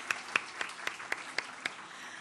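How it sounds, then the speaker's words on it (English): At a session on cities and climate change, an audience claps for a colleague: a handful of distinct, fairly faint claps in a slow, even rhythm. "Let's clap for her."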